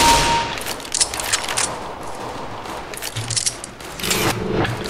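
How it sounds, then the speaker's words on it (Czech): Gunfire in the video game CS:GO, with a dense rapid fusillade of loud shots and bursts rattling continuously, and no talk. "Někdo po mě střelá."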